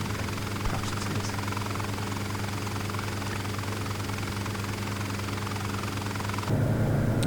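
Steady engine and rotor hum from a Bell 47 helicopter in Flight Simulator, loud and continuous, shifting to a slightly rougher, stronger tone near the end, with no speech.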